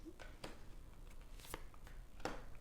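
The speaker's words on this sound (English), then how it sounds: "we'll pull a couple of cards for it" Tarot cards being shuffled and drawn by hand, giving several brief papery riffles and snaps spaced across a quiet room, close and fairly soft.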